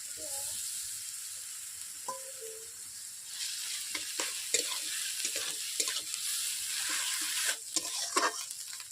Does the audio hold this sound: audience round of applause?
no